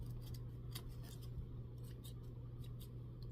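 Scissors snipping ribbon for a wreath bow, a series of quiet, close crisp cuts at an irregular pace over a low steady hum.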